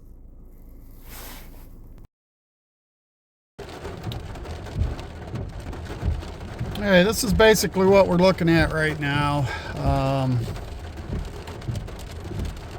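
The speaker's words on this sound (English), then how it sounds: "Just a lot of saturated clouds right now with a lot of rain, and really the wind isn't too bad." Heavy rain from saturated clouds at the front edge of a large storm hisses steadily, with someone talking over it and occasional low rumbles.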